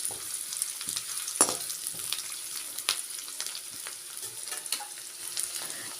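Onions fry in a pan with a steady soft sizzle, while a utensil stirs and scrapes at intervals with a few sharper clicks, close and continuous, no talking.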